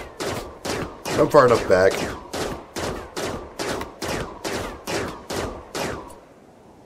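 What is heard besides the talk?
pistol gunfire in the video game Rimworld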